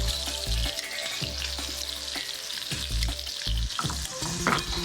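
Scallops sizzle loudly in a hot pan while being stirred, with steady frying hiss and repeated scraping, clattering strokes from the utensil throughout.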